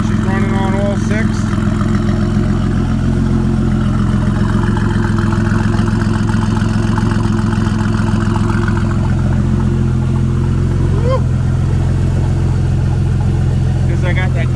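A twin-turbo Camaro's six-cylinder engine idles steadily up close, a constant low rumble with a faint whir, lasting throughout without pause.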